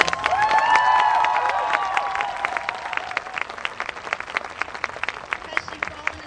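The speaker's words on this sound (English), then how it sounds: "ask for a special round of applause for Joan McCreary" Applause from a school dedication audience honoring a parent volunteer, dense clapping with cheers at first, then thinning into scattered individual claps over a steady crowd murmur.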